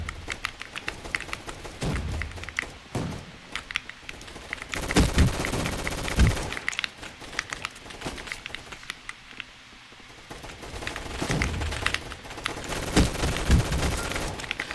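Rapid gunfire in the video game Roblox Gunfight Arena, with bursts of automatic shots that come and go in clusters and lulls, loud and close in the mix.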